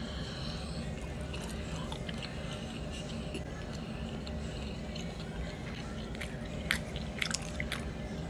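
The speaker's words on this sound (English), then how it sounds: "Okay, stop chewing." Italian sausage is chewed close to the mic, with soft wet bites and mouth noises running throughout while people talk.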